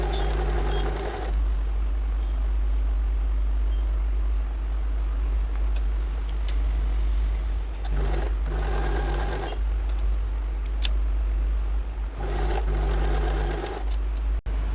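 A sewing machine stitching blouse fabric, three short bursts of fast, whirring needle chatter, close and clear, separated by stretches of low hum and small handling sounds.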